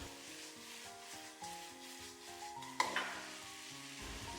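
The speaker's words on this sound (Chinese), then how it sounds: "把小葱段也放进来，给它快速的翻炒均匀" Loach and scallion pieces stir-fried in a wok: a steady, soft sizzle with scraping stirs and a sharper clatter midway, fairly quiet and close, with no talk.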